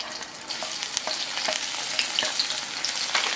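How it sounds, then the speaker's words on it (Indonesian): Garlic, shallots and orange chili sauté in a pan, making a loud, continuous sizzle with a few sharp stirring clicks, and no voice is heard. "Tumis oyongnya aku memakai bawang putih, bawang merah, dan cabai oranye kita tumis."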